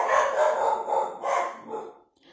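Several dogs barking in short bursts nearby, a few loud overlapping barks in quick succession that trail off into quiet.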